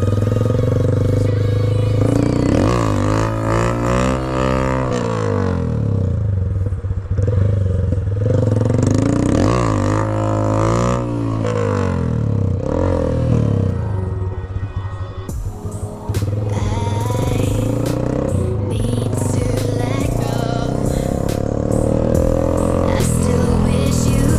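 Honda CG 160 Fan motorcycle fitted with a Yamaha XJ6 exhaust pipe, revving loudly on a street; a near, sustained engine roar with repeated throttle blips and rising and falling revs throughout.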